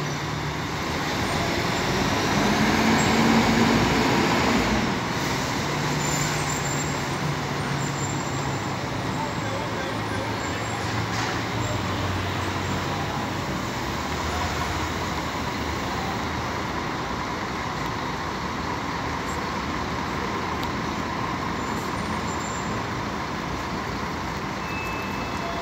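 Buses pulling out of and into Belo Horizonte bus station in Minas Gerais at night: a continuous dense roar of engines and traffic, with a louder swell near the start and a steady rumble after.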